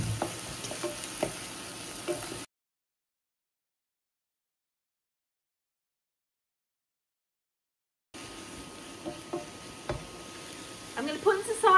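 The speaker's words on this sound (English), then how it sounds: "I'm going to add the garlic to the onion and fennel and cook down for a couple of minutes." Garlic, onion and fennel cook down in a pan with a soft sizzle and occasional spoon scrapes, heard in two stretches separated by a long silent gap.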